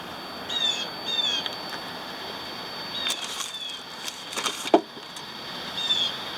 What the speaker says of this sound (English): there's a loud bird in that tree